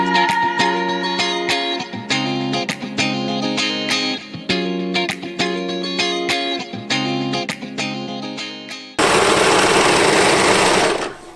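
A sewing machine stitches the seams of a knit dress and its cowl collar pieces, giving a steady, close, rhythmic mechanical whir in repeated bursts, ending in a louder, denser stretch of running noise.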